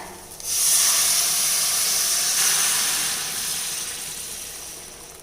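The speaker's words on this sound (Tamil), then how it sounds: "இதில் வந்து வெந்நீர் விட்டுக்கலாம்." A sudden loud sizzling hiss bursts out as hot water hits roasting vermicelli in a hot pan, then slowly fades into steady bubbling steam.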